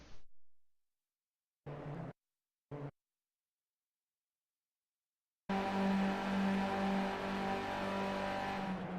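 Skip Barber race cars lap Charlotte in the iRacing video game. Two brief engine bursts break the near silence, then a loud, sustained droning engine roar with a steady whine holds to the end, with no talk.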